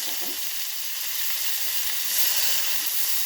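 Cut onion fries in hot oil with whole spices, giving a dense, continuous hissing sizzle that swells slightly louder partway through, heard up close with no talking.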